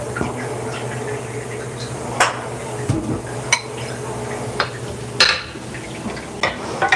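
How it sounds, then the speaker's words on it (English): Dishes from a pile are handled in a kitchen while a Thanksgiving meal is cooked: scattered clinks and clatters of plates and pans rise now and then over a steady background hum, and no one speaks. "Pile of dishes."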